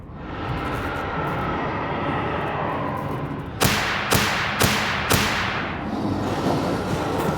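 In the video game A Machine for Pigs, four sharp cracking gunshot effects sound in quick succession midway, each a loud bang over a steady droning rumble.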